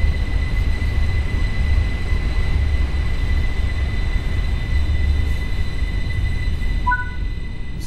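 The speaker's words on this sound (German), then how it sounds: "Dann können wir hier in den ankommenden Zug einsteigen und unseren Platz aussuchen." An RhB Allegra train arriving in Train Sim World 4 on the Bernina line gives a steady loud rumble of wheels and carriages, with a faint tonal whine and a brief high squeal near the end.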